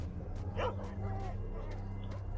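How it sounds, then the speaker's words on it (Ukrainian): A few short dog barks and yips sound in S.T.A.L.K.E.R.: Shadow of Chernobyl, spaced out over a constant low ambient hum, fairly faint and set back from the listener. "Немає від них спокою, реально, від цих собак."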